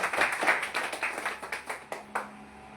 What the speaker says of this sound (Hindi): हम चाहते हैं हमारी कंपनी के लिए तालियां। जोरदार ताली, जोरदार, जबरदस्त।